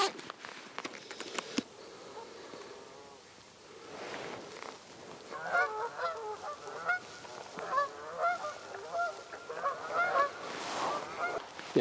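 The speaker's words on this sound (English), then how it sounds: "Now we've had the Canadian geese fly out" Canada geese honk repeatedly at a distance over open lakeside air. Their calls overlap in a loose, uneven chorus that grows busier toward the end.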